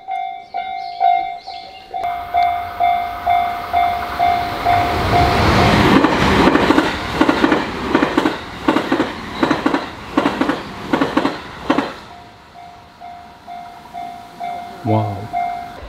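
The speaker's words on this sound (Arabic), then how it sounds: "شكل في قطار بيجي من هنا، شوف بدأ يدق الجرس، ظاهر في قطار بيجي" A level-crossing bell dings steadily in Kyoto as a train approaches, then a passing train rumbles and clatters loudly over the tracks before the bell resumes and someone speaks briefly.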